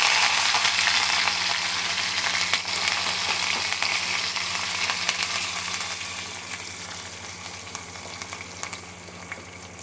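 Small shallots and curry leaves fry in hot oil with mustard seeds already popped, a steady close sizzle that fades slightly toward the end, with faint crackles throughout.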